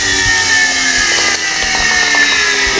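An electric grinder whirs steadily at full speed for a couple of seconds, briefly blending yogurt in a jug, a loud continuous motor drone with no voices.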